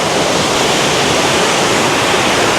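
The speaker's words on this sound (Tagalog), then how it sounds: "So ito yung Daranac Waterfall" Daranac Waterfall in Tanay, Rizal, Philippines, a tall falls giving a loud, constant, close rushing roar of falling water with no pauses and no voices.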